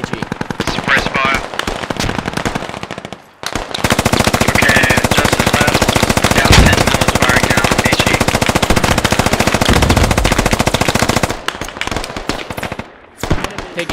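In a squad-based video game battle, sustained machine-gun fire rattles loud and close for several seconds in a dense rapid stream, with shorter bursts before and after it.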